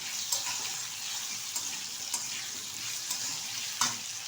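Potatoes frying in a pan with salt being stirred in, a steady close sizzle with soft scraping and a few sharp clicks from the utensil, no voices.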